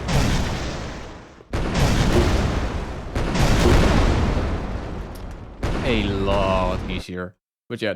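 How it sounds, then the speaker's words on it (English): Rocket launcher firing in an Unreal Engine 5 video game, heard as a few long, loud blasting bursts with roaring tails, followed by a short tonal effect and brief talk. "that's the rocket launcher. It's a basic weapon."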